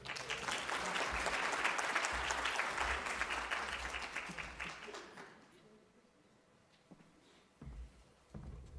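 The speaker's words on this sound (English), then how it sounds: "Once more, a round of applause for Ms. Bessinger" Audience applause for Ms. Bessinger at a programme relaunch event, a full crowd clapping for about five seconds before fading out into quiet room sound and a few soft bumps.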